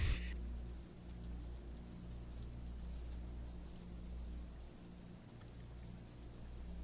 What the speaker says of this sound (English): So this is the acid rain, this red rain.